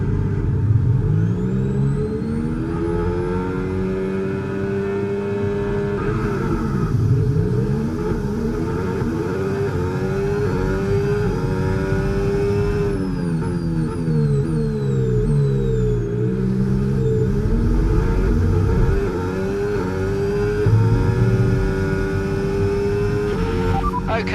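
Formula 1 car engines roar at the race start in the F1 25 video game, several cars revving hard together with rising and falling gear-change sweeps, loud and continuous, with a radio voice now and then underneath.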